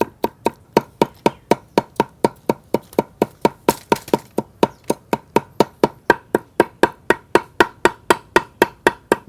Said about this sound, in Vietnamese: Bây giờ tôi băm cho nó nhỏ ra bớt nha các bạn.